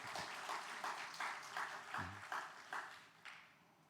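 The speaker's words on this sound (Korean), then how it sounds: "박수 한번 하겠습니다." Faint applause for a guest professor at a Korean university gathering, a soft run of clapping with regular peaks that gradually fades, and a brief voiced sound partway through.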